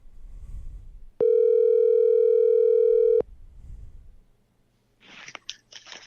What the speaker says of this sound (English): It's ringing. That's a good sign.